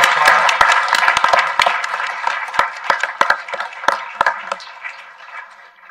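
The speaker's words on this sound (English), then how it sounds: "A round of applause." Scattered applause at a board meeting, a small group clapping with sharp, distinct hand claps close by, thinning to a few isolated claps before fading out.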